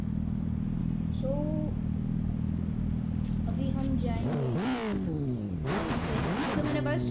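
A motorcycle in a Gangstar Vegas video game idles with a low rumble, then revs and accelerates with rising engine whines and tire squeals, while someone talks over it.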